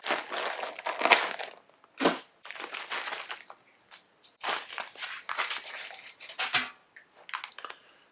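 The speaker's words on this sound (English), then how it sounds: "all you gotta do is rip open this outer bag" The outer plastic bag on a pack of Counteract tire balance beads is ripped and crinkled open at close range in several loud, irregular bursts of tearing and crumpling with short pauses between.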